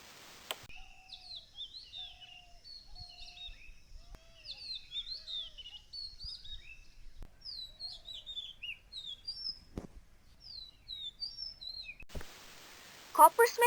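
Birds sing in a garden, with a dense run of bright chirps, trills and whistled calls repeating steadily and fairly close by. A few soft knocks sound in the background, and a loud burst of noise cuts in near the end.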